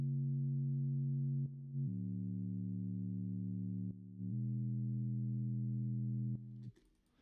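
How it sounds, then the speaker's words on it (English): A filtered analog-style bass synth from a Serum preset, cut down to its low end, holds smooth, pure sustained notes that change pitch a few times, quiet and alone, ending with a soft noisy tail. "For the analog bass, I used a Serum preset that I found, and then I just filtered it down so it's more of the low end."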